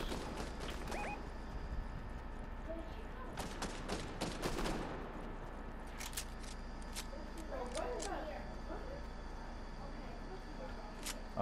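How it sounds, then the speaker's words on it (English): Bursts of rapid gunfire in the video game Fortnite Zero Build crackle through a dense, steady background noise, with sharp shots clustered in volleys and a few isolated pops between them. "Gunfire close."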